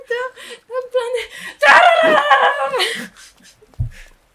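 A sudden loud shriek from Claire in the Resident Evil 2 Remake, bursting out mid-clip and holding for over a second amid game sounds, with a person's voice talking before and after.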